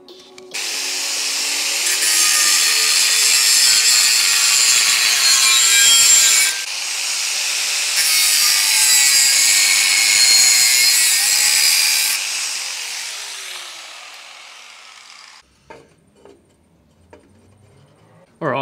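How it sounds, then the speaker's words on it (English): A power saw cuts wood along a masking tape line in a workshop, giving a loud, harsh, sustained rasp in two long passes with a short break between them, then quiet handling noises as the cut ends. "now I'm just gonna cut on this side of the tape all the way around"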